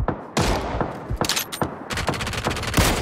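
Gunfire from a QBU or MK rifle in PUBG, a series of sharp, loud single shots and rapid bursts spaced irregularly, with reverberant cracks between them.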